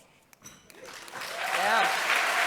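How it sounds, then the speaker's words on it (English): Applause from a conference audience at a national plenary session on ending homelessness swells from a few scattered claps into a full, dense ovation that holds steady, with a voice briefly heard at the start. "That was worthy of the applause"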